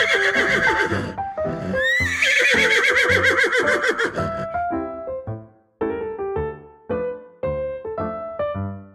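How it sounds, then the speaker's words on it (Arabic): A horse gives several loud, close whinnies, the first a long shrill neigh with quavering pitch, then shorter snorting nickers in a rhythmic series, with no other sounds around it. "ده بقى الحصان، بيجري بسرعة زي ما تكون راكب عجلة"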